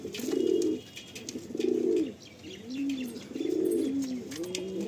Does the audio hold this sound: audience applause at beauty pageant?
no